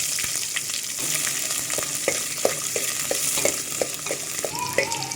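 Onions, mustard seeds and curry leaves sizzle in hot oil as a tempering for horse gram saaru, with a steady frying hiss and repeated scraping stirs that come in a regular rhythm, close and fairly loud, with no talking.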